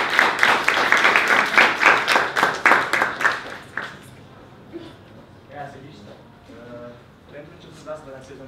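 An audience at a talk-style event applauds loudly with steady clapping for several seconds before it fades out, after which a person begins speaking.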